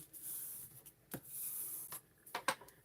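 A paper score line being pressed down into a valley fold and creased while making an accordion for a travel mini album. Soft, close scraping and rubbing with a few sharp crinkly swipes near the end, no talking.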